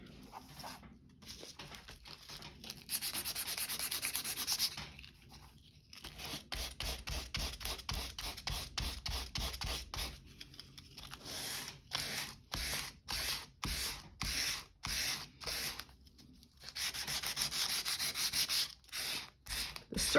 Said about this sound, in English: Careful so I don't sand all the way through it.